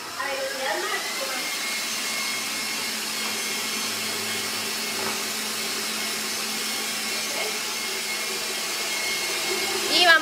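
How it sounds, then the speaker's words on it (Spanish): A professional stand mixer runs at top speed, whipping egg whites and sugar for French meringue, giving a steady, loud motor whir that holds without a break throughout. "Para esa receta sí necesitamos una batidora profesional para que montemos bien el merengue francés."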